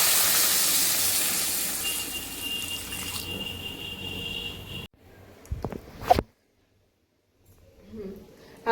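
Water poured into a hot pan of spices with ground cumin bursts into a loud steamy hiss that fades over several seconds, followed by a brief clatter and then near silence.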